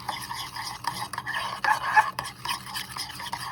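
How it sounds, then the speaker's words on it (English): Egg yolk being mixed into cookie dough in a mug, heard as a steady scraping, clinking stir of a utensil against the mug, close and moderately loud with no talking. "So I'm gonna take my egg yolk and put it in there and mix that."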